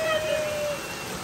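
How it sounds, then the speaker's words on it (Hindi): Heavy rain pours down in a steady, dense hiss close by, with a thin tonal whine running through the first half of the short stretch. "अभी बहुत ही ज्यादा प्रमाण में बारिश हो रही है"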